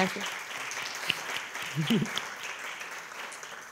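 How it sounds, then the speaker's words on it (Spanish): Applause rises from the audience at a feminism forum, a moderate spread of clapping lasting a few seconds, with a brief voice and light laughter over it. "un fortísimo aplauso también para, para ella"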